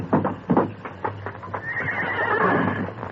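A bronco horse on a ranch neighs in a loud, near whinny, with rhythmic hoof clops and snorting at the start before the drawn-out call.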